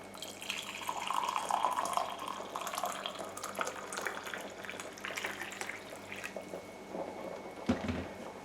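Boiled water pours steadily into a pot of Punjabi basmati rice in a home kitchen, a continuous trickling splash with a brief knock near the end.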